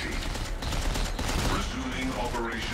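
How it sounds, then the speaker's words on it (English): A burst-fire submachine gun shoots in the video game Dead Space 3, producing a dense, continuous rattle of rapid shots that fills the whole moment at loud volume, with a voice faintly audible underneath. "this burst fire submachine gun is kind of tight"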